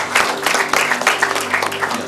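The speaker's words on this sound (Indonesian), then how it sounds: "Mari kita tepuk tangan dulu untuk Tuhan Yesus." Congregation clapping hands in church at a wedding service, with sharp, uneven claps close by and a crowd murmuring and calling out over the clapping.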